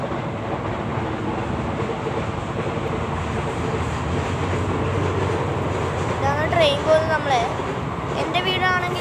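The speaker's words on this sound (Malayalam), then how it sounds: "ഇതാണ് ട്രെയിൻ്റെ ഒച്ച കേട്ടില്ലേ?" A train rolls past near a railway station with a steady, continuous low rumble throughout, while a person talks over it.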